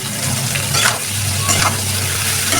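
Green tomatoes sizzle steadily in a hot pan while a utensil stirs and scrapes through them, loud and close.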